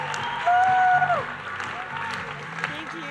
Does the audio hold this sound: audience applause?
yes